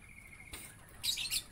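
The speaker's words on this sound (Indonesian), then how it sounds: "Inilah sistem ternak burung lakbet saya. Sistemnya koloni." Lovebirds in a colony breeding cage give a few quick, high, squeaky chirps near the end after a steady low hum, faint and fairly close.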